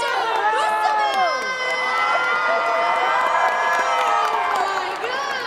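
Loud crowd cheering and whooping with shouts for a costumed contestant at a competition show, a continuous roar of voices carrying through the whole stretch.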